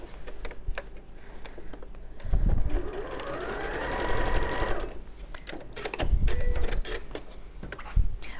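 A sewing machine sews around the sides of a fabric lining panel in several short bursts of rapid rhythmic stitching, each a few seconds long, separated by quieter pauses with light handling clicks.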